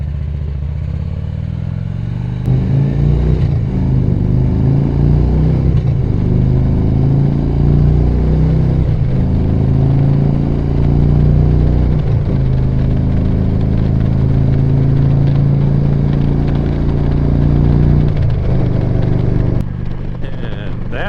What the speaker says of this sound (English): Because you know, I gotta hear my engine.